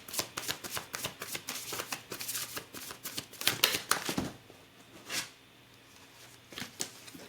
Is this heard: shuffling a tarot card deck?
yes